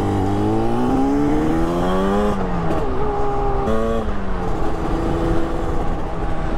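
A Yamaha RD350 YPVS two-stroke motorcycle ridden at speed, its engine loud and close with a buzzing, rising and falling pitch as it shifts through the gears, with steady wind noise throughout.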